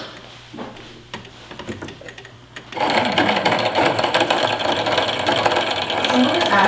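A Baby Lock sewing machine winds a bobbin in a steady, loud, continuous whir that starts abruptly partway through, after a quieter stretch of handling noises and faint talk.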